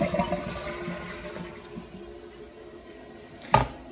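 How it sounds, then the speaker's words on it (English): A toilet flushes with a low, steady rush of draining water, fairly faint and alone, ending in a sharp clunk and surge near the end. "the very last one, is gonna be flushing down the toilet"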